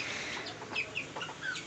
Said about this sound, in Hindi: छोटे छोटे चूजे खुले हुए हैं